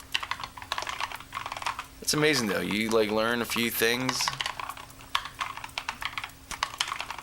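Rapid clattering keystrokes on a computer keyboard, close and steady throughout while navigating in the Vim editor, with someone talking over the middle stretch.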